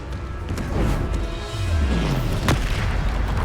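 Bombarda explosion spell going off in the video game Hogwarts Legacy, a heavy booming blast with a crashing burst and a falling low rumble, loud over continuous game ambience.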